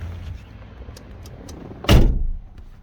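A Rover CityRover car door being opened and then shut: a few faint clicks from the handle and latch, then one loud, close thunk as the door closes, fading into quiet cabin air.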